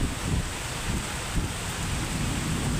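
A nor'wester (Kal Baisakhi) storm at night, with steady heavy rain and gusting wind forming a dense wash of noise, broken by low rumbles of thunder that swell and fade throughout.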